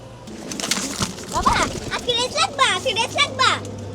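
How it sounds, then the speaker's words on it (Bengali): Pigeons coo close by in a home pigeon-keeping setting, their soft, warbling calls mixed with a voice chattering over them. "কবুতর"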